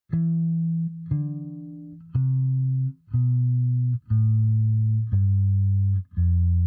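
Bass guitar picking single notes one at a time from the E Phrygian scale in 7th position, seven evenly spaced notes about a second apart, each sustained clean and close with no talking.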